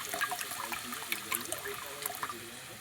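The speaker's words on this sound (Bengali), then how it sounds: "এবার আমি এখানে একটু জল দিয়ে দেবো" Water poured into a pan while cooking a bean dish with sesame, cashews and peanuts, a steady close trickle and splash running for about three seconds with no talk.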